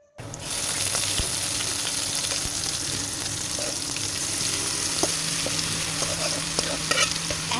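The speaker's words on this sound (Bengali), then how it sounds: "এখন এই তেলের সাথে কিন্তু এই শাকটাকে ভালো করে নেড়ে চেড়ে মিশিয়ে নিলেই কিন্তু আমার কলাই শাক সম্পূর্ণ রেডি" Cooked kolai greens are tipped into hot oil with fried onions and stirred in a pan, setting off a loud, steady sizzle with scraping stirs and occasional clinks.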